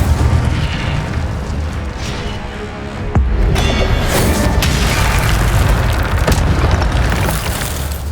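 In the Hogwarts Legacy video game, an Incendio fire spell explodes as a loud, continuous roaring boom with a sharp crack partway through, thick rumbling fire and debris noise filling the whole stretch.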